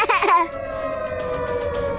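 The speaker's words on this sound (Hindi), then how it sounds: "अभी भी सायरन बज रहा है।" A steady, wailing air raid siren holds a sustained tone at moderate volume, after a brief voice-like sound at the start.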